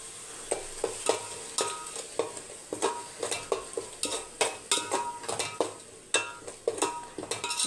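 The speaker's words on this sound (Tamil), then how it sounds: "இஞ்சி பூண்டு அரைச்சி வச்சுருக்கோம்ல, அதோடு சேர்த்து நல்லா வதக்கி எடுத்துக்கலாம்." Ginger-garlic paste sautéing in a pan for Dindigul chicken biryani, with repeated sharp spoon scrapes and clinks against the pan over a steady low sizzle, close and fairly loud, no talking.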